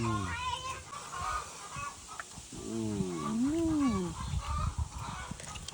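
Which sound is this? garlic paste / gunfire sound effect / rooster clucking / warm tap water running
rooster clucking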